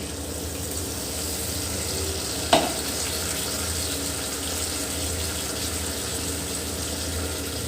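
Onion-garlic paste hits hot oil in a pan, giving a steady hiss and sizzle with stirring scrapes and a brief sharp clatter early on, no voice present.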